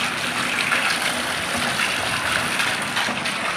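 Rainwater gushes fast in a loud, steady, broadband rush that holds without a break throughout during a rainstorm in Jaipur.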